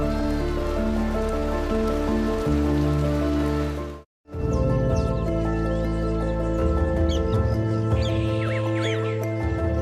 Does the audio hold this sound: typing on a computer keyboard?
no